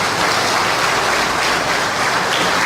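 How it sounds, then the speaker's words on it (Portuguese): A church congregation claps for a sermon in a loud, dense wash of applause that stays steady and continuous from start to finish, with no voices rising above it. "Você pode dar um salve de palmas ao Senhor por essa viva esperança"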